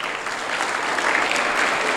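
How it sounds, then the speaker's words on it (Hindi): Children clapping their hands together at a workshop, a continuous dense patter of many small claps held at a steady level throughout. "ताली बजाना इसके लिए"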